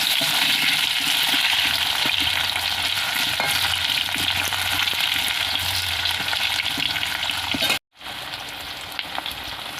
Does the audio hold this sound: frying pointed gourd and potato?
yes